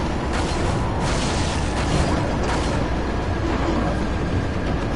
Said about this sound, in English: Nice, he threw a grenade.